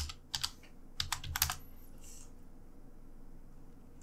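Quick keystrokes on a computer keyboard entering a web address, a few short clustered bursts of clicking in the first second and a half, then quiet room tone.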